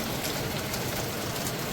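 Rain falling on the tiled roof of a Kerala house during the monsoon, a dense, even hiss of drops that holds steady and fairly loud throughout.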